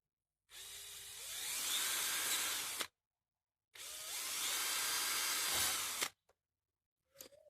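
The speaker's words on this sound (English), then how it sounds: "is to just drill little holes in there, using this as a guide" A cordless drill bores small pilot holes for door hinge screws, guided through a hinge, in two steady whirring runs of about two seconds each that spin up and then cut off, close and loud, followed by brief clicks.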